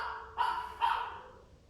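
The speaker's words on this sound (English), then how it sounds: "I have no idea what Pippa has decided to bark to." A dog gives two short barks a fraction of a second apart, somewhat distant and muffled, heard indoors with no talk.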